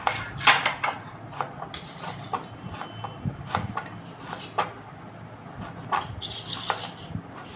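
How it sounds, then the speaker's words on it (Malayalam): Vegetables are chopped with a knife by someone seated at a table, producing irregular close knocks and taps on a board with brief pauses between bursts. "ഇങ്ങനെ മേശപ്പുറത്ത് ഇരുന്ന് തന്നെ അരിയണം"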